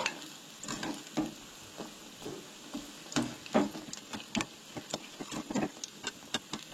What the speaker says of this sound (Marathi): तेका लागून मिडियम फ्लेमीचेर अशें फ्राय करून घेयात